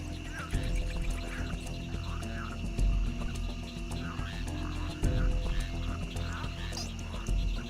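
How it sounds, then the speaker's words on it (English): Jungle frogs call in a dense, continuous chorus of croaks with a low rumbling undertone, many voices overlapping close by, with no talk. "frogs try to stay hidden or reduce their calls to a brief low-frequency"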